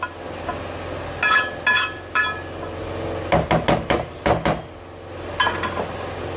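Vegetables stir-fried in a wok for restaurant-style Chinese fried rice, heard as bursts of metallic clanks and scrapes from the utensil against the pan, grouped in quick clusters over a steady low background hum.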